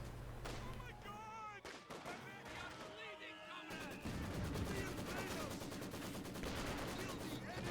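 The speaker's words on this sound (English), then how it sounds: "This gun fires, rolls a miss." Gunfire crackles in a Company of Heroes 2 battle, with a rapid burst of automatic fire and overlapping shots under busy game noise while someone commentates.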